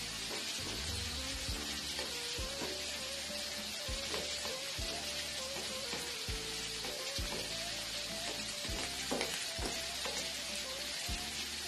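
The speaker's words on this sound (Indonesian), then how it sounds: "Gongsong semua bahan saus pakai minyak sedikit saja. Gongsong mulai bawang putih." Garlic and sweet-and-sour sauce ingredients frying in a little oil, a steady close sizzle with crackling throughout and occasional clinks and scrapes of a utensil stirring in the pan.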